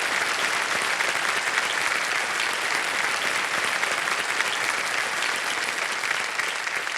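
Studio audience on the KBC quiz show breaks into sustained, dense applause, loud and even throughout with no talk on top.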